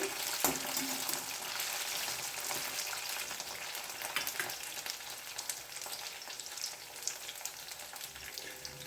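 Brinjal pieces fry in a pan, a loud, steady crackling sizzle with faint stirring scrapes throughout.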